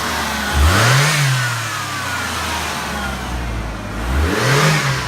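A cold Ford Mustang engine revs hard twice, each blip rising and falling in pitch with a steady idle rumble between, close and loud with no talk.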